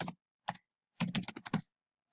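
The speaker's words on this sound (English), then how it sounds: "And you'd carry on typing like that." Keys on a computer keyboard clatter in short bursts, a few single taps followed by a quick run of keystrokes, close and clear against a silent background.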